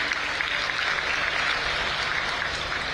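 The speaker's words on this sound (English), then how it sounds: "I think round of applause to Secretary Rajesh Agarwal ji." Audience applause at a festival closing ceremony, a continuous dense wash of clapping from a crowd, steady and moderately loud for the whole stretch.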